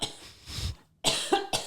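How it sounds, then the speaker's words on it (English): A person coughs several times in quick succession, close to the microphone, in harsh separate bursts with short pauses between them. "I have to cough."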